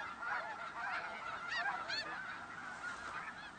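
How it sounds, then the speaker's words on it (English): A flock of geese honking in the Russian Arctic, several nasal calls overlapping, moderately close against a soft outdoor background. "The geese keep a sharp eye out."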